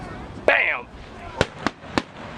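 Fourth of July fireworks burst over Bethpage Ballpark, one crackling explosion followed by three sharp distant bangs in quick succession, heard with a voice speaking around them.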